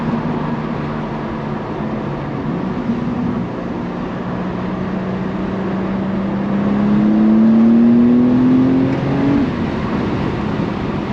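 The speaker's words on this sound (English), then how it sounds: "the turbos in this thing sound fucking crazy" A BMW G87 M2 turbocharged engine accelerates along a backroad from inside the car, a droning exhaust note climbing steadily in pitch as it pulls through a gear, swelling louder before easing off.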